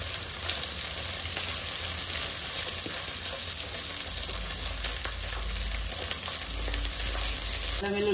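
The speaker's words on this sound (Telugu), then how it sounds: "అల్లం వెల్లుల్లి పేస్ట్ వేగిన తర్వాత" Ginger garlic paste frying in a pan for gutti vankaya curry gives a steady, close sizzle that runs without a break, with faint clinks of stirring now and then.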